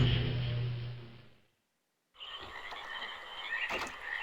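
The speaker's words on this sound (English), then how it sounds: "Ooh, frogs." Frogs croak in a watery, tree-filled swamp area of Myst's Channelwood Age, first as a steady chorus, then cutting out for a moment of silence before a brighter, fuller croaking chorus returns.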